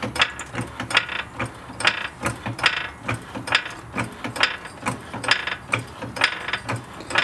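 Ratcheting clicks from a jack being pumped up under the spring bucket of a Ford Fiesta ST strut during a coilover install, a steady run of sharp mechanical clacks in an even rhythm, close and fairly loud.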